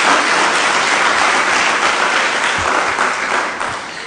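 A church congregation applauds during a Portuguese-language sermon, producing a steady, loud wash of many hands clapping that holds for several seconds before easing slightly at the end.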